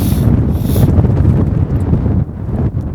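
Strong wind on a mountain at sunset roars and buffets the microphone in loud continuous gusts that ease slightly near the end.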